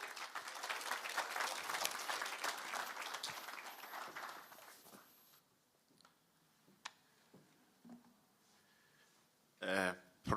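Applause from the audience at a City of Johannesburg skills development graduation ceremony, loud and sustained for about five seconds before fading to near silence with scattered clicks and a short burst of noise near the end.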